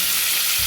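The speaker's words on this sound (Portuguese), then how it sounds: "Vamos fritar ele aqui bem fritinho, para ficar um risoto bem saboroso." Pork rib meat sizzles loudly and steadily in a pan while a risotto is cooked, a close and continuous frying hiss with no talking.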